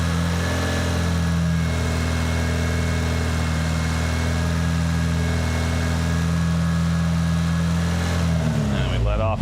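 A Honda car engine holds a steady, loud idle-like drone with a low hum throughout, then briefly shifts pitch near the end as the throttle is blipped, recorded close.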